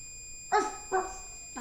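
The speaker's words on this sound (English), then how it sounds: "That's a dog" Two sharp dog barks about half a second apart, fairly close and moderately loud, with an otherwise quiet background and a faint electronic whine.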